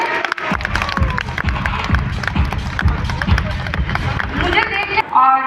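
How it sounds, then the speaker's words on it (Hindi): A crowd at an event applauds loudly, with dense continuous clapping mixed with cheering and general babble throughout. "एक बार मेरे कोच के लिए और एक बार अपने कोच के लिए जोरदार ताली बजा दीजिए।"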